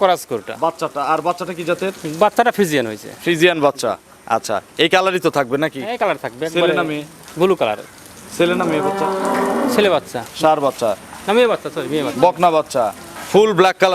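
A medium-bodied cow with her all-black newborn calf, only hours old, lows repeatedly at a cattle market. The moos are loud and close, mixed with someone talking steadily throughout.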